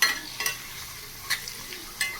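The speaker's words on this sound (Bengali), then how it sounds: "লোহার কড়াইতে বানাচ্ছি আলু ভাজা" Potatoes fry in an iron kadai with a soft, steady sizzle, punctuated by a few sharp scraping stirs of a utensil against the metal pan.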